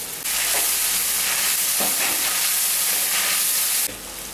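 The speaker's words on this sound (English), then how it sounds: "the paste, you will have to fry until it becomes a thicker paste like" Spice paste for mee siam frying in oil in a pan, a loud, steady, close sizzle and hiss that runs unbroken, with no talking.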